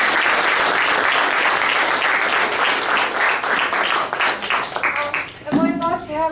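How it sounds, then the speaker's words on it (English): A crowd at a Singapore maker conference in 2017 gives a loud, sustained round of applause that fades out as a voice begins talking at the end. "I could put a round of applause."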